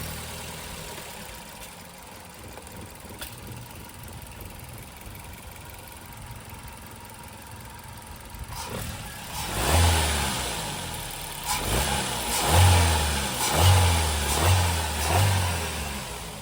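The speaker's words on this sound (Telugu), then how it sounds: "నెక్స్ట్ మీకు ఇంజిన్ ఒకసారి స్టార్ట్ చేసి ఏ విధంగా ఉందన్నది మీకు ఒకసారి నేను చూపించడం జరుగుతోంది" A used car's engine idling quietly at first, then started up and revved in a series of rising and falling bursts, close and loud, each rev swelling and settling back toward idle.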